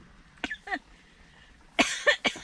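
An adult coughs two quick times, and after a pause a louder burst of three harsher coughs follows, all close by in a quiet room.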